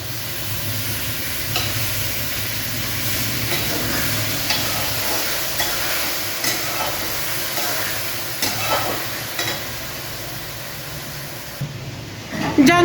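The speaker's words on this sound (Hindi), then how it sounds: "मैं कर रही हूँ सालन की भुनाई" Curry (salan) sautéing in a home kitchen pan gives a continuous loud sizzle and hiss, broken by occasional scraping stirs, ending in a few sharper clatters.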